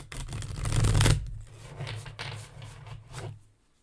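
A deck of tarot cards is shuffled by hand in a few quick riffling, rubbing bursts, close and fairly loud, then fading out with no voices.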